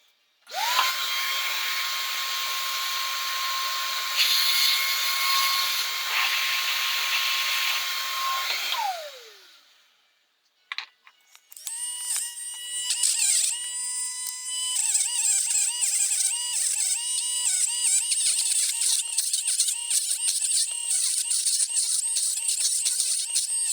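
An electric motor from an old Chicago drill whines steadily while its commutator is sanded with 800 grit, stops briefly, then restarts with a brighter, fluctuating whine and squeal that runs on steadily.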